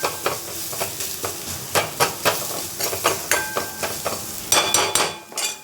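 Coconut milk rasam with garlic simmering in a pot on the stove, stirred with a spoon in a run of scraping strokes over a steady, close sizzle and bubbling.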